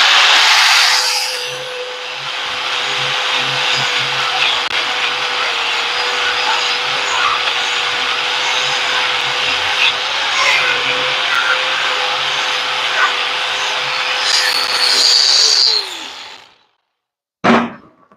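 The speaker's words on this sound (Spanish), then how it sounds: "Vamos a iniciar el proceso de pulido. Vamos a gratear, a limpiar." A power grinder works over a welded broken axle shaft (semi-axle), a loud, steady high whine that holds for about fifteen seconds, then winds down and cuts off, followed by a brief sharp knock.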